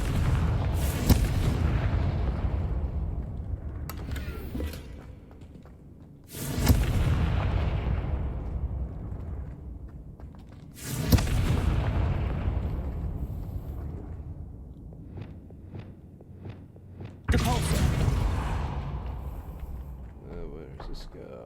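Confringo spell explosions in Hogwarts Legacy: four loud, deep booms spaced several seconds apart, each with a long rumbling decay, alongside speech.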